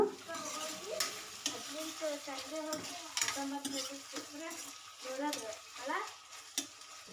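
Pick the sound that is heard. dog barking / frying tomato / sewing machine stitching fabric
frying tomato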